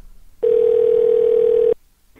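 A single steady, loud telephone dial tone sounds for about a second and a half after a call is hung up, then cuts off abruptly into near quiet.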